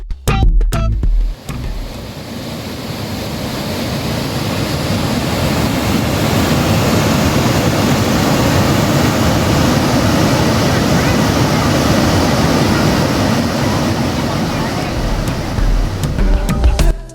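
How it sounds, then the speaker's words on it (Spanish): The Agua Azul waterfalls of the Tulijá river in Chiapas give off a steady, broad roar of falling water, with brief wind buffeting and handling bumps at the start and end. "Estas son una serie de cascadas con pozas de un intenso color azul turquesa, formadas por el río Tulijá."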